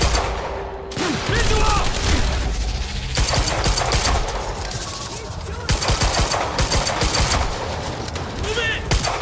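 Gunfire in the video game Quantum Break: dense automatic bursts and single shots crackle loudly and almost without pause, mixed with shouted voices.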